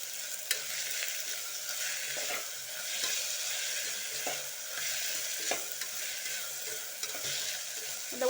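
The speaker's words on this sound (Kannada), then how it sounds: "ಎಲ್ಲ ಒಟ್ಟಿಗೆ ಚೆನ್ನಾಗಿ ಫ್ರೈ ಆಗಬೇಕು." Spices and masala for chicken biryani frying and being stirred in a pot, with a steady sizzle and intermittent scraping clicks of a spoon throughout, close and alone.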